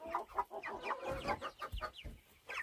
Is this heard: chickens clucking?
yes